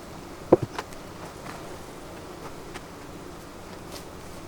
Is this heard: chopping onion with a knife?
no